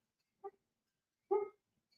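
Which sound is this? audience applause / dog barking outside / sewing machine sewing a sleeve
dog barking outside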